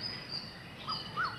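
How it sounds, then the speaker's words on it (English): A bird sings outdoors in a few faint, brief chirping notes over a quiet background hiss, heard alone without talking. "that you cannot enjoy the sound of that bird"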